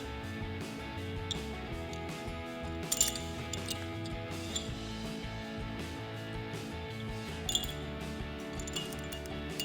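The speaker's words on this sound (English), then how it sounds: "Now we have these nuts that are going to drop into those slots." Small metal nuts and Allen bolts clink and tap against a steel fog light bracket during installation on a 2019-2023 RAM 1500 BARDE front bumper, with scattered light metallic clicks and a couple of sharper clinks over a steady background hum.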